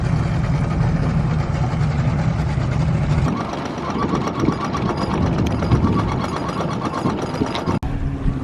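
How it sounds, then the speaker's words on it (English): A towboat engine drones as it tows a sailboat disabled by contaminated diesel fuel, a continuous low hum that shifts in tone partway through, with faint water and cabin noise around it. "the gentle hum of a towboat"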